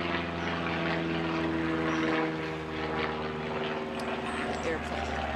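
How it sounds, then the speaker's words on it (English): A propeller airplane flying overhead makes a steady, droning hum with a constant engine tone that fills the whole stretch, while people talk over it. "You see the airplane?"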